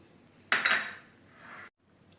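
Coriander is tipped into a mixer grinder jar, giving a short metallic clink and rustling clatter, followed by a softer rustle before it stops, close and fairly quiet.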